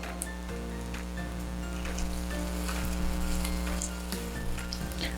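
Onion and garlic fry in a pan while being stirred, giving a steady close sizzle with scraping clicks from the stirring throughout, no talking.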